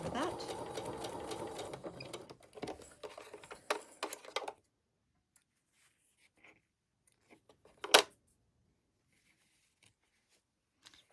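Sewing machine stitching a quilt block, driven slowly in a short burst of close mechanical whirring and ticking for about four seconds, then near silence with scattered small handling clicks.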